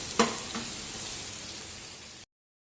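Vegetables sautéing in a pan for chicken jalfrezi, a soft steady sizzle after a brief clatter as they go in, with a faint scrape, fairly quiet and without talk, cutting off abruptly.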